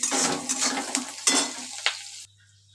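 Salted food frying and being stirred in a pan for egg chow mein, a loud close sizzle with scraping strokes and clinks that stops abruptly near the end, leaving faint hum.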